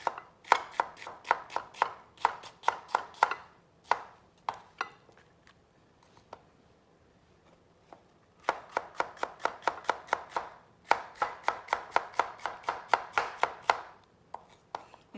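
Bitter melon sliced thinly on a cutting board, bursts of quick, crisp knife chops in steady runs separated by short pauses, close and clear without talk.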